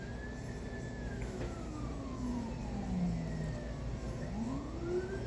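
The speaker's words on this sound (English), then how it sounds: "If y'all hear that siren in the back" A wailing siren from an emergency vehicle in Memphis rises and falls steadily in the distance, sweeping up and down over a constant low hum of traffic, with no voices.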